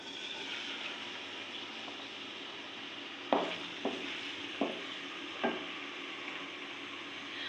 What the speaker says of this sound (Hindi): तो मैंने रखा हुआ है तेल गर्म होने के लिए और डाल देती हूँ प्याज